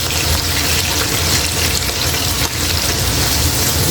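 Liver sizzling as it fries in a pan for a Filipino vegetable dish, a loud, dense, continuous crackle that stays steady and close.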